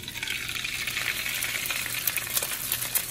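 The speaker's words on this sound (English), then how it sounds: "I'm just gonna start frying up some eggs for these," Eggs fry in a pan for a family breakfast, giving off a continuous close sizzle and crackle with small pops and occasional light scraping, and no talking.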